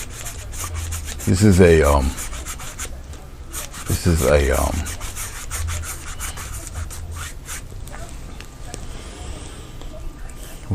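A 1.5 inch paintbrush works light blue paint into dark on a grayscale painting, giving a steady soft brushing rub throughout, with someone talking over the opening strokes.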